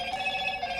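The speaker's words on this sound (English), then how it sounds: "Doug, what are you doing with that ringtone?" A phone ringtone plays in a studio, a steady electronic tone with sustained pitched notes, heard alone and fairly clear for under a second.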